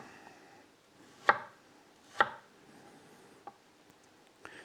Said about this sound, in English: we basically want to cut it into cubes